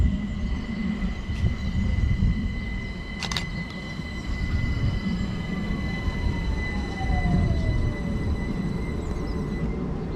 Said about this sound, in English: arriving in now, we've got a London Overground service from Watford Junction to London Euston